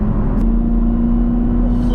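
A supercharged Chevrolet Camaro ZL1 engine gives a steady, loud, close low rumble with a sustained whining tone on top, holding even for the whole moment.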